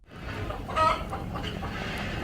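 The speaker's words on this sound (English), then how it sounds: "Hen," A hen clucks steadily against a dense farmyard background, the calls close and moderately loud with a brief louder burst near the middle.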